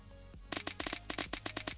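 A suppressed AKS-74U Spec Ops rifle in Unturned fires a rapid burst of about a dozen muffled shots in quick succession after a short quiet start, close and crisp.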